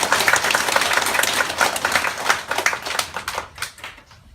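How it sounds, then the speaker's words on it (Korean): A church congregation applauds the choir after a hymn, with dense clapping that stays loud and steady, then thins and fades out toward the end. "아름다운 찬양을 해주신 우리 성가대를 위해서 감사와 이 수고의 박수를 한번 보내주시면 고맙습니다."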